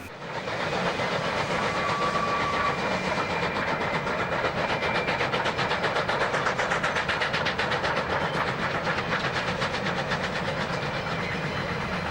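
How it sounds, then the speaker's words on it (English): A South African tourist train runs on the George–Knysna branch line, a steady rolling rumble with rhythmic clickety-clack of wheels over rail joints and a faint hiss, constant and fairly close, with no talk. "The popular holiday tourist trains make up most of the traffic."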